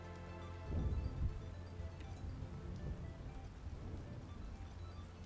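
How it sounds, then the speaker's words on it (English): Steady rain falling in the video game Lost Ruins, a dense, continuous hiss that swells slightly early on and then holds evenly throughout, with no talking. "That rain texture is great though."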